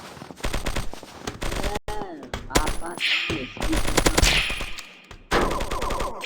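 Rapid bursts of automatic gunfire from a shooting video game, loud and close, coming in several quick volleys with brief pauses and metallic game effects between them.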